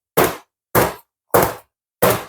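A pound cake tin filled with batter is knocked on a kitchen counter four times at steady intervals, each a loud, sharp thud close by, with silence between.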